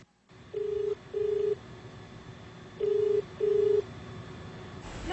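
Telephone keypad being dialed, with four short steady touch-tones in two pairs over a quiet room hum, followed by a faint noise at the end.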